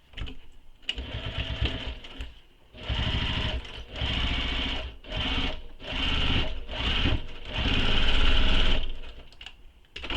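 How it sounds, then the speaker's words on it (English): A sewing machine stitches across a backpack seam in several close, loud bursts of rapid mechanical chatter separated by short pauses, with no talk. "I'm going to sew directly on top of that previous stitching"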